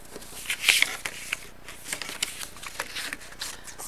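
A deck of oracle cards is gathered up and put away by hand: quick, close papery riffles and slaps in short uneven bursts, with one louder flurry near the start.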